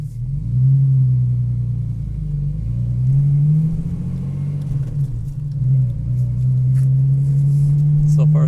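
A Jeep XJ drives down the road, its loud, steady engine drone rising and falling slightly in pitch with the throttle throughout.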